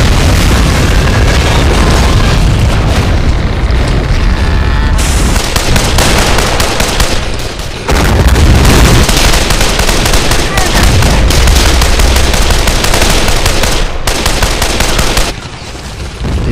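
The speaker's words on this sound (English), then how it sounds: "These are kind of like a German Katusha, the equivalent of. Pretty powerful I'm going to try and use it to barrage that Russian front line" Rocket artillery barrage in Men of War: Barbarossa, German Katyusha-style launchers firing on a Russian front line: dense, continuous rumbling blasts and crackling volleys, loud and sustained throughout with a brief dip near the end.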